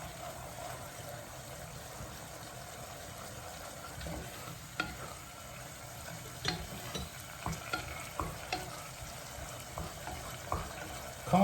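A spoon works through mushroom, asparagus and courgette risotto in a hot pan, soft sizzling under irregular scraping and clicking strokes, close and fairly quiet.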